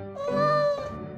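A single cat meow, close and clear, rising and falling over about a second.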